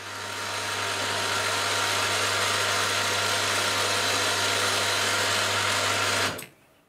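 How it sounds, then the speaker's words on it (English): A lathe or drill centre-drilling a 3mm hole position in the end of a small workpiece, running as a steady, loud mechanical whir with a constant hum for about six seconds before stopping abruptly. "now I need to centre drill the position for a"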